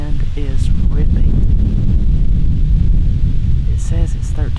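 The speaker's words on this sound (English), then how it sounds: "As you can probably tell, the wind is ripping." Strong gusting wind roars steadily across an outdoor microphone high in a tree stand during an Ohio public land bowhunt, a loud continuous rush throughout with brief faint voice traces.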